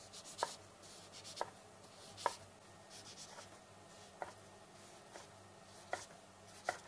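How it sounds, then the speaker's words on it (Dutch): Knife strokes slicing beef into strips on a board, a series of soft, evenly spaced taps and scrapes, close and quiet, with no talking. "Nu ga ik ze in sliertjes vorm snijden."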